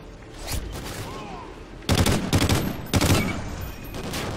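Rapid gunfire in Call of Duty Ghosts Infected mode, two dense bursts of automatic shots after a quieter stretch, loud and close.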